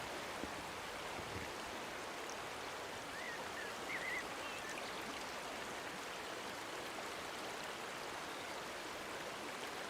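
Steady, broadband rush of the River Itchen flowing over its bed, a continuous close hiss and gurgle that holds evenly throughout with no voices.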